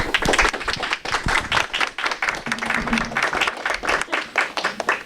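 Audience applauding panelists at the close of a panel discussion, a dense, steady round of many hands clapping that stays loud throughout, with a brief low hum of voices partway in.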